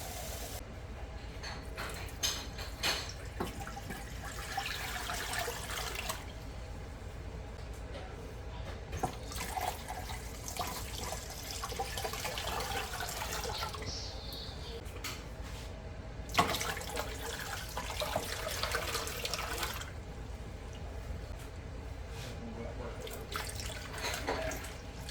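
Running water pours steadily into a metal canning pot holding jars, a continuous splashing rush with brief pauses and faint clinks in between.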